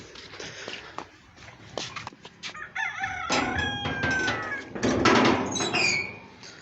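A rooster crows at a rural home at night, loud and close, its drawn-out call rising over a background of squeaks and clucks from nearby fowl, with faint voices in the background.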